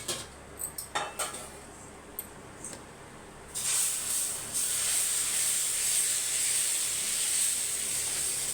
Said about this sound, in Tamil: இன்னொரு தோசை ஊற்றணும்